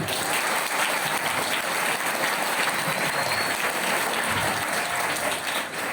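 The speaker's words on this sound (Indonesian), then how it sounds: "tepuk tangan" Steady applause from a crowd at an Islamic study session on bid'ah, a dense continuous patter of many hands clapping for several seconds, fairly loud and even throughout, with no talking over it.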